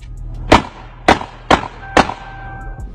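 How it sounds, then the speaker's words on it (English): Four sharp gunshots ring out on a livestream recording, sharp loud cracks spaced about half a second apart with short decaying echoes, followed by a faint tone. "You can hear him fighting in the background before shots start going off and the live just ends."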